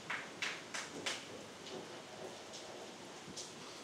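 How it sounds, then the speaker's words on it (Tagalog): Rain falling outdoors, a soft steady hiss of moderate rain with a few louder splashy bursts near the start, fairly faint and without voices. "kasi medyo umuulan"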